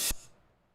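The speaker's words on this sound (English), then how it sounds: "Reverse cymbal." A brief swelling reversed cymbal wash cuts off sharply, leaving a short fading tail.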